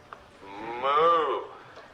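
A person imitates a cow with a drawn-out, rising and falling moo sung in a single breath, loud and close, with faint room noise around it.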